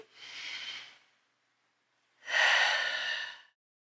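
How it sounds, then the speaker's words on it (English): Two slow, deep breaths during yoga, each a soft airy hiss through the nose, the second louder and longer, with a quiet pause between them. "Continue breathing deeply."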